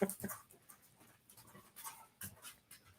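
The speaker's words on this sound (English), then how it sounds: "And you can probably hear my dog tapping" A dog's claws tap on a hard floor in light, scattered clicks, close by and fairly quiet, with soft panting mixed in.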